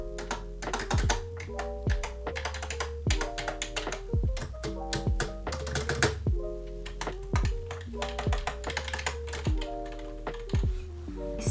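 Clacky typing on a Yunzii Actto B303 typewriter-style keyboard, close and crisp, bursts of sharp keystrokes with short pauses between them and no talking.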